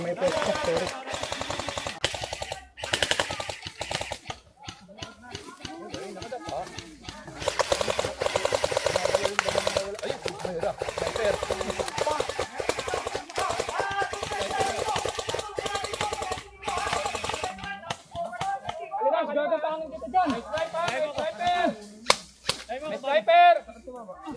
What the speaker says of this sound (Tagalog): May bumabaril sa atin, may bumabaril.